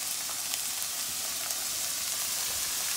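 Onion, pepper, green onion and garlic sizzle in a hot pan, producing a steady, dense broadband hiss with faint crackles throughout, close and continuous with no talking.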